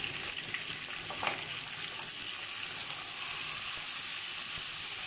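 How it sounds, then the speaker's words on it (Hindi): Chicken pieces fry hard in hot oil with turmeric and green chili for a dry chicken tikka, a steady close sizzle and hiss that swells louder toward the end, with no talking. "चिकन से हमें खूब भूनना है।"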